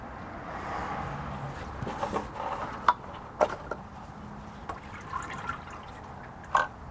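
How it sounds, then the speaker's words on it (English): Transmission fluid from a BMW E46 ZF 5HP19 automatic gearbox drains into a drain pan, a soft steady trickle with scattered close drips and light clinks, no talking. "when I pull this filter down, more fluid's going to drain out, so I'm going to have the drain pan positioned correctly"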